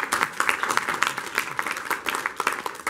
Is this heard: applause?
yes